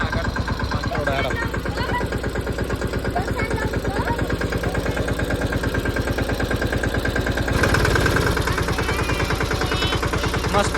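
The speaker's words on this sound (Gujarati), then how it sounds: "મસ્ત ટ્રેક્ટર ચાલી દીધું છે." A tractor engine runs steadily with a rapid, even chugging pulse, close and fairly loud, swelling slightly as it picks up toward the end.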